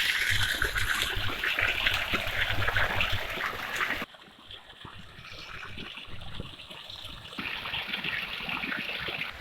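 Water gushes steadily from an artesian well beside the forest belt near Nainital, where a tap-like fitting holds back the pressure. The rush is loud and continuous, then dips briefly softer before surging again.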